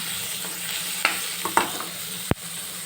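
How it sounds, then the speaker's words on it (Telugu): Chopped tomatoes and carrots frying in a pan for oats pongal, a soft steady sizzle broken by a few spoon taps and one sharp clack near the end. "ఫ్రై చేసుకోండి"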